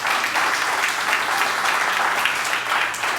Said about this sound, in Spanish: Dámosle un aplauso a Dios.